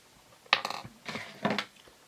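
The plastic cap of a DNA saliva test tube is twisted, giving a few close, brief clicks and scraping rasps in three short bursts.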